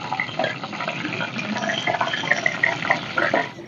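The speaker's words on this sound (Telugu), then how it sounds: "పచ్చిమిరకాయలు వేస్తున్నానండి." Green chillies sizzle and crackle in hot oil in a pan, a steady bright frying hiss with small pops, close and alone for a few seconds.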